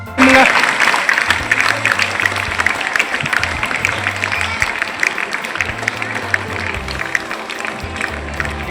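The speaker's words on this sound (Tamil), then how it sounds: "பயங்கர கரகோஷம் கொடுக்குறீங்க" Girls' secondary school students in Arani giving loud applause at a free bicycle distribution event, continuous crowd clapping with a speaker's amplified voice talking over it throughout.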